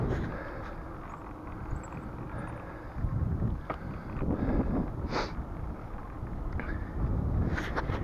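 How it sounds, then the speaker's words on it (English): Strong gusty wind buffets the microphone in rumbling bursts, rising and falling with no voices, on a chilly, sunny day during a bike ride. "It is chilly and windy."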